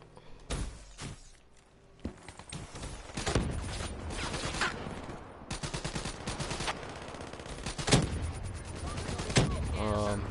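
Video-game gunfire from Black Ops 3 comes as sharp, loud single shots and short bursts spread irregularly across the clip, over a rumbling game background.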